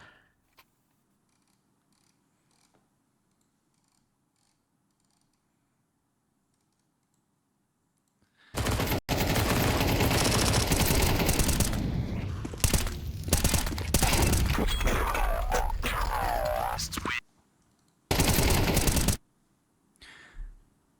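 Bursts of SMG fire from a Counter-Strike match, a long loud volley of rapid shots followed by a shorter second burst after near silence.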